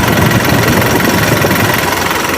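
A Mitsubishi Canter Euro 4 truck's diesel engine idles with a loud, steady, even rumble throughout, heard up close with no talking.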